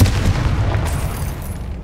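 A Confringo blasting spell explodes in the Hogwarts Legacy video game, a loud, deep rumbling boom with a crackling tail that fades over a couple of seconds.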